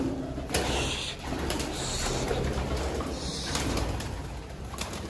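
Pigeons coo softly outdoors, low repeated throaty calls against a steady background hum, with a few faint clicks and rustles scattered through.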